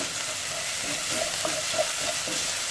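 Soup is stirred in a pot, giving a soft continuous hiss with rhythmic low scraping and knocking strokes, moderately loud and close, no talking.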